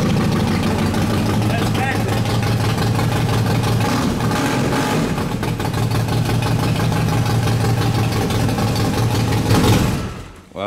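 A Harley-Davidson motorcycle engine idles steadily with a deep, throbbing low rumble throughout, people talking over it, before it drops off near the end.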